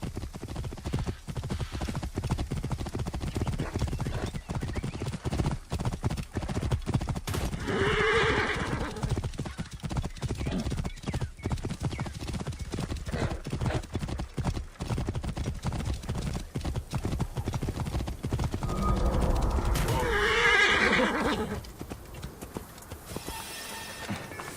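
A horse in Assassin's Creed Origins moves with steady rhythmic clip-clopping hooves across the whole stretch, joined by two loud neighs, one around eight seconds in and a longer whinny near twenty seconds, with no speech.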